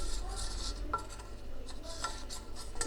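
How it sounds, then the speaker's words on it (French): A utensil gently stirs egg white into pancake batter in slow circles, giving soft, quiet scraping and rubbing against the bowl with a couple of faint clinks. "Et je vais mélanger très délicatement en faisant des ronds"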